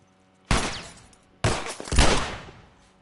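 Gunshots to the head in The Last of Us: three sharp, loud shots in quick succession, each with a short ringing tail, the last pair nearly overlapping.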